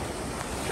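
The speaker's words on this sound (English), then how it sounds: "These waves are going nuts." Rough sea waves surge in a continuous broad wash, loud and close, with wind buffeting the microphone and no voices.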